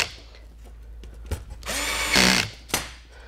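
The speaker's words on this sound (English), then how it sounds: "So we'll go ahead and screw this bottom plate on first, and I've got my drill set at 7 right now" A low-powered cordless drill set to clutch 7 drives screws into the bottom plate of an XP2 quadcopter frame, with a close whirring burst that rises in pitch, short clicks and knocks around it, and a final tap.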